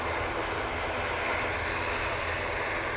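A Virgin Atlantic airliner at Manchester Airport gives off a steady, broad engine roar that holds at an even loudness throughout, with no talking over it.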